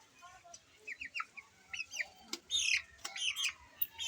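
Young chicks peep and cheep in high, thin calls while they are held for eye-drop Ranikhet vaccination at home, a cluster of quick, close chirps that grows busier toward the end.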